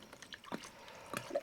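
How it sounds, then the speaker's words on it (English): Fuel system cleaner is poured into soaking diesel injectors from an old Ford backhoe, giving a few brief, quiet liquid splashes and drips spaced apart, with nothing else over them. "I'm just going to pour this in there and"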